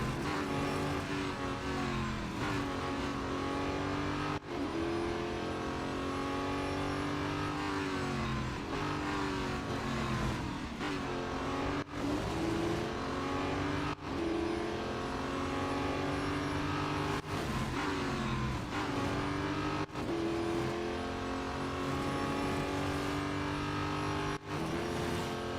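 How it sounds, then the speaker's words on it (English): Race car engines in the mobile racing game Real Racing 3 roar and rev continuously as the car takes a corner, pitch climbing and dropping with gear changes, loud and steady throughout with no voices. "this car can just take round this corner, no problem"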